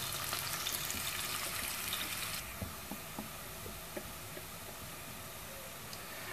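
Whole red chillies and onions sizzle in hot oil in a pan, a steady bright hiss that softens partway through, with faint scattered pops and spatters continuing underneath.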